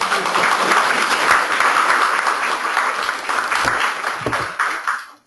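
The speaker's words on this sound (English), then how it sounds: "Can we have a round of applause?" Attendees at an annual meeting give a round of applause, a dense, fairly loud burst of clapping that holds steady before tapering off near the end.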